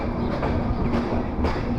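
Train pulling out of Kalukhali railway station, a large junction, with a steady broadband rumble of wheels and carriages throughout, close and continuous with faint rhythmic clatter.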